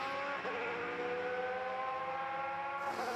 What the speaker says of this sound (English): that is the sound of a Cosworth V8